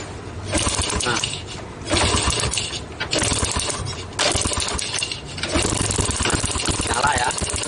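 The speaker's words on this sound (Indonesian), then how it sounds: "Motornya langsung nyala ya. Nggak ada kendala apa-apa, langsung hidup." A Yamaha Vega R New motorcycle engine, earlier suffering from lost ignition, fires up and revs in four loud bursts with short dips between, close to the microphone.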